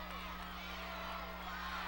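High school football crowd at the 2006 Illinois Class 2A state championship, Maroa-Forsyth fans standing and cheering in the closing seconds, a steady dense roar of voices with a low hum underneath.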